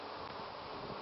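A steady honeybee buzz hums close by, continuous and fairly faint, with a light rustle of wind underneath.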